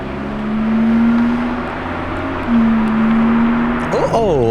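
A Lamborghini Revuelto drives past with a steady, loud engine drone that swells, dips briefly, then rises again before a rising rev near the end, with voices talking over it.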